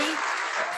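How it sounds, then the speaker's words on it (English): Audience applause filling a symposium keynote hall, a dense steady wash of many hands clapping at once, loud and sustained throughout with no voices standing out. "a round of applause for Jhannel."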